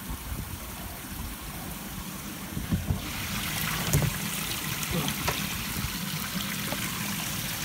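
Water from a koi pond's overflow and bottom drain pours through two 4-inch valved pipes into a filter sieve, a steady broadband rushing and trickling that grows louder partway through and continues alone without talk.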